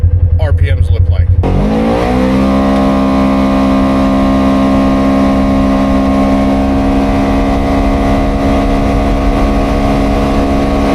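Polaris Xpedition UTV fitted with an Aftermarket Assassins S3 clutch kit pulls from a roll up to 50 in sport mode, a loud steady engine drone with rising pitch that settles into a sustained high-rev whine for the remaining seconds.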